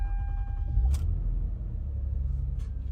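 A cold Lexus engine turning over and settling into a quiet, smooth idle, a low steady rumble after a short click or chirp near the start.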